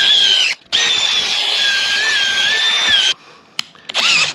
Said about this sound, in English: How about if you turn the drill the right way